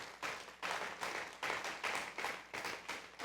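A church congregation claps loudly in steady rhythmic bursts, a dense, roomy wash of hands filling the space with no talk over it.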